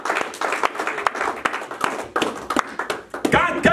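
Congregation clapping during a church service at a tabernacle, a dense run of quick, uneven hand claps with some voices mixed in, fairly close and steady throughout.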